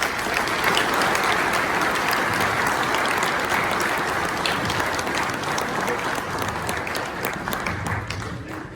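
A crowd at an evening talk on exorcism claps in sustained, dense applause welcoming Father Vince Lampert, staying loud and even before tapering slightly at the end.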